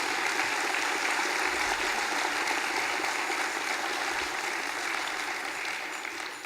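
A large audience at a building-cooperatives federation congress closing speech applauds the organising team, a dense continuous wash of clapping that slowly fades toward the end.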